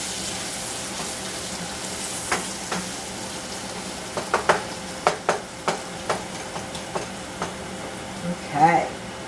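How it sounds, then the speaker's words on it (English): Steady frying sizzle of onion in oil and butter with a crackling hiss, broken by sharp utensil clicks and scrapes against a pan, fairly close and moderately loud. "Nice sizzle."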